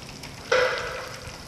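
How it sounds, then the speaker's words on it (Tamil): Ginger and garlic sautéing in a hot pan for Chinese dragon chicken, a sudden close sizzle that flares up and slowly fades over a second. "இந்த இஞ்சி பூண்டலாம் வந்து நல்ல ஒரு மாதிரி பூண் முருள வதங்கிடுச்சு"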